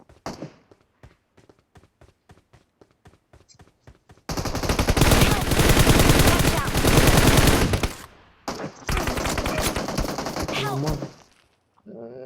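Gunfire in the mobile battle royale game BGMI, starting as a string of sparse single shots, then breaking into long, loud automatic bursts that stop briefly and resume.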